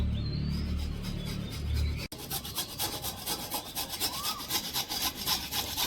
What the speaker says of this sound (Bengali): আমি গাজরগুলোকে ঘষে নিব